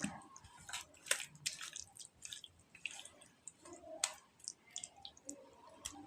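Wet squishing and sticky clicks as prawns are kneaded and mixed with spice paste by hand, irregular and close, fairly quiet with no talking.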